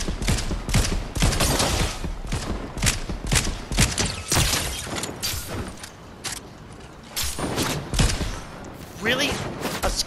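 Rapid bursts of sniper and other gunfire crackle through a Fortnite squads match, sharp repeated shots in quick clusters layered with game effects, with players talking over much of the action.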